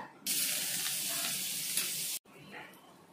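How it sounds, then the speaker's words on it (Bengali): Butter hitting a hot wok for tomato paneer gives a sudden loud hissing sizzle that holds steady for about two seconds, then cuts off and returns quieter. "কড়াইটা গরম হয়ে গেছে, কড়াইয়ের মধ্যে দিয়ে দিচ্ছি বাটার"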